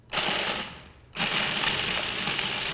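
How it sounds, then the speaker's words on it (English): A food processor grinds graham crackers into crumbs with a loud, rough mechanical whir, briefly dropping in level before surging back to full grinding for the rest of the stretch, with no talk. "Now that that's been kind of ground down, the food processor can handle the rest of these."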